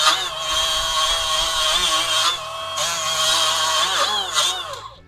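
A Ryobi 18V cordless die grinder runs steadily with a wire brush, polishing metal: a loud, continuous high whine with slight pitch dips as the brush loads against the workpiece, close up and with no talking.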